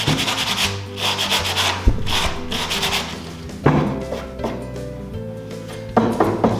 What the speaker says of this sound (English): I'm just gonna take this sandpaper and start to